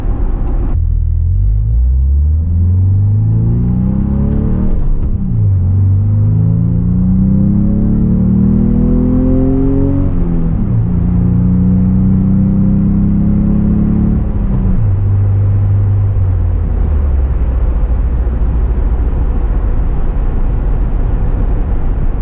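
A 2024 Bronco with a 2.3L four-cylinder engine and a Roush exhaust revs loudly and close up. Several rising throttle blips swell and fall back to a deep, rumbling idle.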